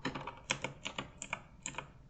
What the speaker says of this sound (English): Let's say you want to type something.